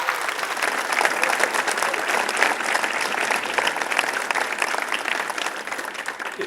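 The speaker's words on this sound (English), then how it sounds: "Let's give another big round of applause for these awesome startups we had." A live startup event audience claps steadily and loudly for several seconds, a dense continuous applause with no talk over it.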